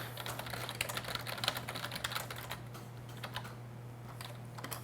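Rapid typing on a computer keyboard at a desk, dense clattering key clicks in quick irregular bursts over a low steady electrical hum, fairly quiet, without talk.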